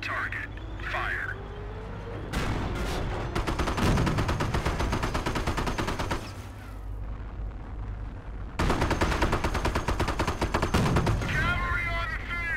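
Cannon blasts and rapid gunfire from the World War II strategy game Company of Heroes, loud and dense with repeated bursts and heavy booms, with brief game voice lines between volleys.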